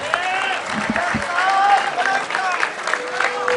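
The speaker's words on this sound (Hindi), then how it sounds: "तालियां" A crowd applauds at a bar association convention in Gujranwala, with continuous clapping, cheering and shouting voices filling the space, loud and close, with a few whistles or calls rising above.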